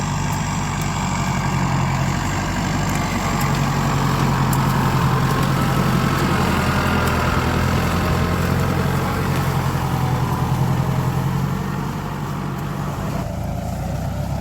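A farm tractor working a cassava field during a harvest, its engine running with a steady, loud low drone throughout, easing slightly near the end, with no talk over it.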